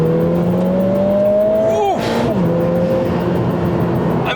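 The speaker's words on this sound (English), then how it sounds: "Power delivery is absolutely urgent, and this engine wants to rev." A Lotus Emira sports car engine revs hard, its pitch climbing steadily before dropping sharply at a shift and settling back, loud and close with road noise underneath.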